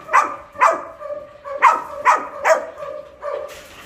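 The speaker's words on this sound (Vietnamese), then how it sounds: "đây là giống chó Doberman nha" A Doberman barks six times in quick, evenly spaced, loud close bursts, with no talk over the barking.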